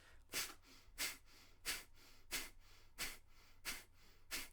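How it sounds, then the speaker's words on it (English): Seven sharp, forceful exhalations through the nose, a yoga pranayama breath, in a steady rapid rhythm, close and clear, each a short breathy puff with quiet gaps between. "It's an intense exhalation from the nose, like this."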